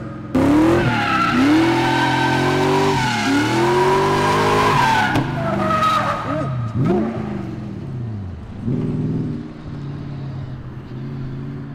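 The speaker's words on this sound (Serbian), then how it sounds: "Ovo je trkački auto, veliki adrenalin" Loud engine revving and squealing tires as a race car slides through repeated drifts on a track, pitch rising and falling, fading somewhat near the end.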